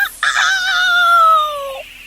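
A loud, close crowing call from a cockerel, one long drawn-out note that holds steady before trailing off, with nothing else around it.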